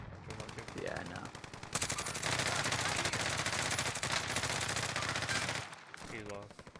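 Call of Duty Warzone zombies-mode gunfire: rapid automatic bursts roar loud and continuous for several seconds, tapering off near the end, with players talking over the shooting at the start and finish.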